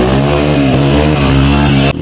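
A motorcycle revs close by and loudly, holding a steady, throaty drone with slight rises and dips throughout before cutting off abruptly at the end.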